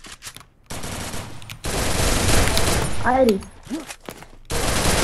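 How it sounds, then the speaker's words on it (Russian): Bursts of automatic gunfire in the shooter game Free Fire, loud overlapping volleys broken by brief gaps, with a voice speaking briefly over the shooting. "А чё они все в меня стреляют, блин?"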